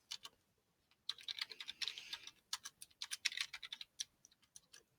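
Quick bursts of keystrokes on a computer keyboard as a research paper title is typed into Microsoft Word, with brief pauses between irregular clusters of close, crisp clicks and no talking.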